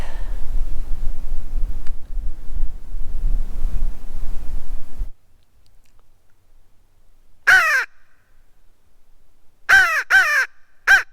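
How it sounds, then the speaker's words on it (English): Low gusts of wind rumble against the microphone for a few seconds, then it goes calm and a crow caws several times nearby. "Getting windy."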